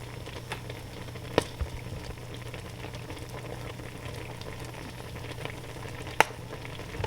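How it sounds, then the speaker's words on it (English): Cranberries boiling in a pot on the stove for canned cranberry sauce, with a steady low bubbling simmer and a couple of sharp isolated pops standing out. "In fact, we can hear them popping."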